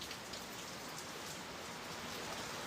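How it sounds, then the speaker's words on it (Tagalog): Heavy rain pours down steadily in Manila, a dense, even hiss of drops hitting surfaces with no pauses or voices. "Grabe ulan na dito sa Manila"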